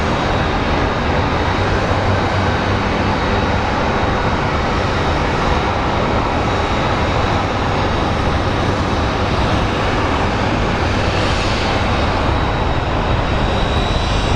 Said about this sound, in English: And this flight is landing from Portland.